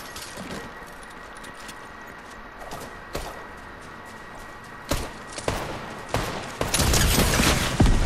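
Scattered video game gunshots crack out in bursts, sparse at first and then a rapid flurry near the end, against a quiet electronic background hum.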